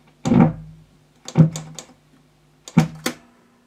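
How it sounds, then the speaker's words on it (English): An old, worn tape recorder with a noisy bearing clunks three times as its tape is wound on, each firm mechanical thunk followed by a short whirring tail, close and separated by pauses. "Winds the tape on."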